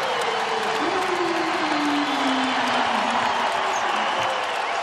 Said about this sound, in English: This crowd is ready to go.